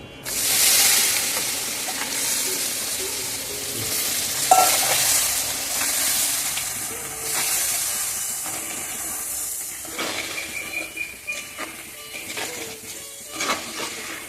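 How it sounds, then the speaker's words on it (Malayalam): Crab hisses and sizzles loudly in a hot pan while a utensil scrapes and stirs, with clinking scrapes growing more frequent toward the end. "അപ്പോൾ നമ്മൾ ഈ ഞണ്ട് അങ്ങോട്ട് ഇട്ട് കൊടുക്കും"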